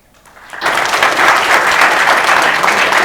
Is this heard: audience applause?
yes